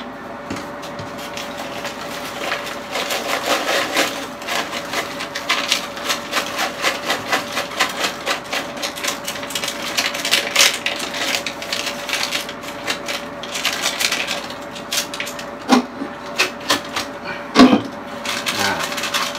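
Columbus hop pellets are poured into a beer fermenter for dry hopping, a long close run of dense rattling and patters with scattered knocks and rustles, steady throughout without talk.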